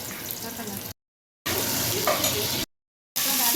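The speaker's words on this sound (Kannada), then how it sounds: "ತಲೆಕಾಲು ಸಾಂಬಾರಿಗೆ ಎಣ್ಣೆ ಹಾಕ್ಕೊತಾ ಇದ್ದಾರೆ. ಒಗ್ಗರಣೆಗೆ ಸ್ವಲ್ಪ ಈರುಳ್ಳಿ" Onions sizzle in oil inside a pressure cooker as the tempering for a field bean sambar, a loud close hiss with stirring scrapes, broken into three sections by abrupt silent cuts.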